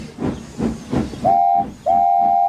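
Steam engines in a Thomas and Friends Roblox remake puff with rhythmic hissing chuffs, then blow two loud, sustained whistle blasts in quick succession.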